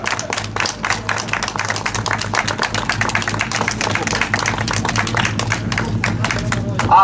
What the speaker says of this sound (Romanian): Giacopo, să-l aplaudăm!